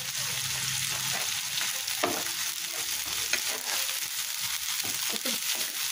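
Ground spice paste frying in a pan during a home cook's fish curry, a steady broadband sizzle with occasional spoon scrapes and clinks, close and continuous, no talking.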